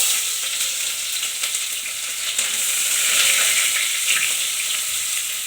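Mustard seeds and onion fry in hot oil in a pan for a Kannada-style gori kai (cluster bean) palya, giving a steady, close crackling sizzle throughout.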